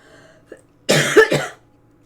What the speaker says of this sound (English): I just started coughing. And I pretty much haven't stopped.